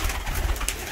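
Soft pigeon cooing rises and falls against a dense, noisy background of many birds in a pigeon coop, close and continuous.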